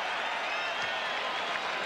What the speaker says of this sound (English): Gets his first point and gets a cheer from the crowd.